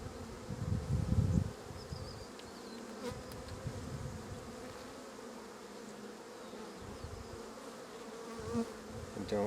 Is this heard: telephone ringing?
no